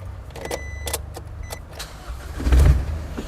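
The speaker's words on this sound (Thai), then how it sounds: "เดี๋ยวต้องมีสตาร์ทเครื่องเสียงนะ" A 2021 Isuzu D-Max pickup truck engine cranks and catches with a low rumble after some clicks and rattles, close by, with no one speaking.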